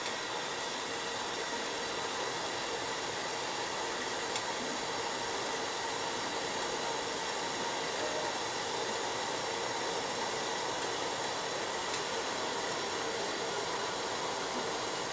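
Blueberry jelly at a steady boil in a pot on the stove gives a constant, even hiss and bubbling roar, close and unbroken, with no voices.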